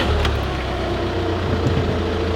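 Clutch noise from a faulty clutch on a Volkswagen Passat, a steady low mechanical drone with a faint whine over the engine running nearby, continuous for a couple of seconds with no talking.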